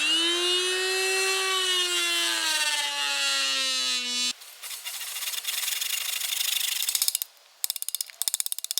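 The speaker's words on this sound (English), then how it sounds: "the best tools we've found for this application are our oscillating saw" An oscillating saw cuts a notch into a wooden post for a garden gate arch. A loud, steady buzzing whine drops slightly in pitch as the blade bites for about four seconds, then gives way to harsher rasping and a few sharp, clattering bursts.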